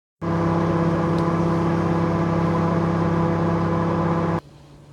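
A microwave oven runs steadily, heating banana with chocolate, giving a loud continuous hum with strong low tones for about four seconds before cutting off abruptly into quiet.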